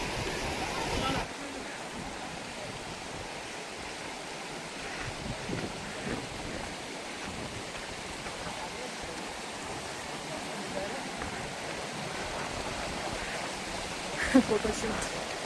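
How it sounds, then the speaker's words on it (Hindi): Fresh mountain stream water rushes steadily on the trek from Badrinath toward Vasudhara, a continuous broadband flow heard up close, with people talking faintly nearby. "फ्रेश पानी आ रहा है।"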